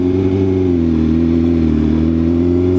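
A vehicle fitted with a loud aftermarket exhaust drones heavily while riding along a gravel road, with a strong, steady engine note that drifts slightly in pitch, close and loud with no talking.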